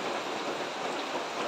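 Steady rain falls outdoors during an oil change on a Bajaj RE, a dense, even hiss that holds at a moderate level from start to finish with no voices.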